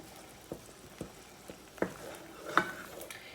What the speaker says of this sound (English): You're just going to go through and mash up all your peaches